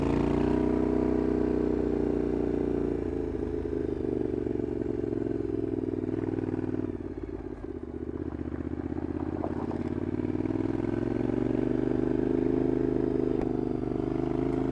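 A motorcycle climbs a rough gravel road, its engine droning steadily and close with rumbling tones that dip briefly midway before rising again, tires crunching and clattering over loose stones.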